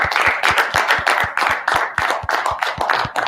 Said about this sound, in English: I just want to clap it up for y'all real fast.